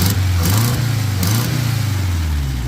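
Engine of a 1972 Toyota Corolla TE28 with carburetor and fuel pump trouble, revving up and down close by in a steady loud rise-and-fall pattern without talk.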